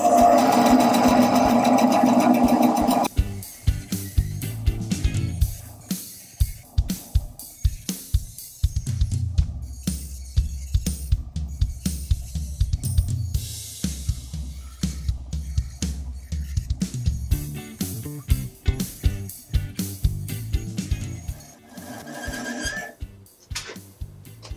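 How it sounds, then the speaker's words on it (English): Woodworking bandsaw cutting a wooden circle out of a board in many short passes, a brief steady motor whine at the start followed by repeated choppy bursts of blade noise and pauses, fairly close. "my bandsaw is not the most efficient tool in the world, so we had to take that in lots of small increments"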